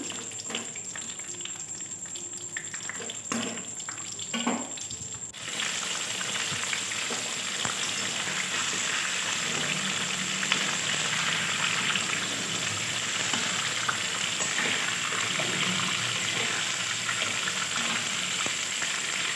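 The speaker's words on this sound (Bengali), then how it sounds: "তো পটলগুলো এবার ভেজে নেবো আমি" Pointed gourd (potol) frying in hot oil, a steady close crackling sizzle that swells louder after a few seconds and continues evenly, with some clinks of utensils at the start.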